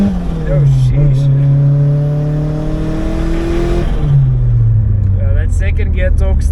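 A turbocharged Corsa B GSI making about 200 kW accelerates hard in second gear, its engine note rising steadily under load, then dropping as the gear changes and climbing again, loud and close from inside the car.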